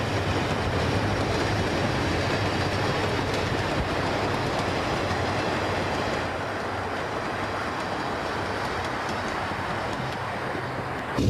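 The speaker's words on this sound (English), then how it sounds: "Another RS3 powered commuter" An Erie Lackawanna commuter train hauled by an RS3 diesel locomotive rolls past with a loud, steady diesel rumble and clattering wheels, easing slightly in the second half but staying close and continuous throughout.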